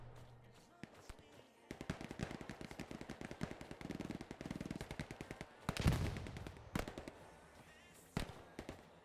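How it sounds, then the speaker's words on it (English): Rapid bursts of automatic gunfire and scattered shots in a World War II battle video game at Bergstein Church, a steady crackling volley of mid-distance shooting with a louder burst midway. "Somebody is shooting at me as I cross this field"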